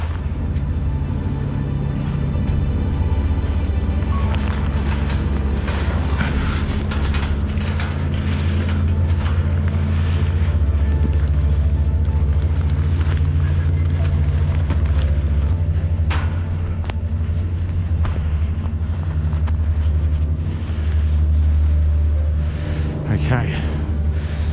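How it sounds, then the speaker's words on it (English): Cable car machinery on a 127 m tower starting up for its morning test run, a steady loud low rumble and mechanical drone that carries on throughout, with a brief spoken word near the start. "so cable car started moving. They're doing their morning tests."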